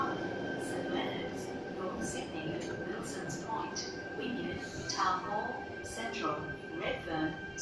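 A departing train on the Epping–Chatswood rail line in Sydney makes a steady low rumble with a sustained whine as it pulls out of Epping station, while voices talk nearby throughout.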